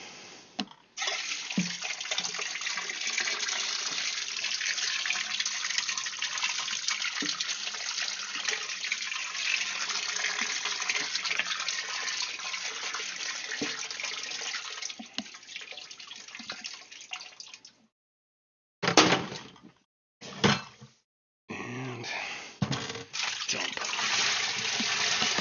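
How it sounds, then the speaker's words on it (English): Rinsing under a running tap: a steady broadband rush of water flows for about eighteen seconds, briefly cuts off a few times in short bursts, then runs again, close and fairly loud. "One more rinse for fun."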